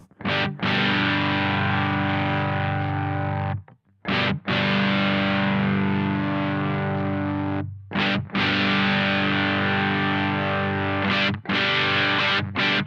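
Distorted electric guitar chords through a Supro Drive overdrive pedal ring out in three long strums, the overdriven tone growing brighter and sharper as the tone control sweeps from minimum to maximum.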